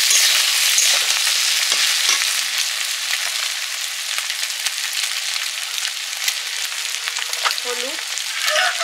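A fish head fries with onion, ginger and garlic while being stirred, making a loud, dense, continuous sizzle with occasional scraping strokes and no talk over it.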